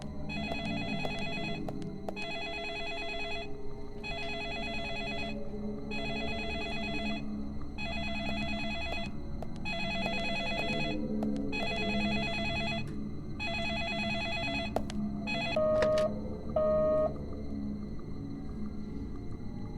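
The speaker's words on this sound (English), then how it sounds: "Phone's ringing." Repeated electronic telephone ringing from the video game Deadly Premonition, a steady series of evenly spaced bursts that carry on for most of the stretch, with a couple of shorter tones near the end over a low background rumble.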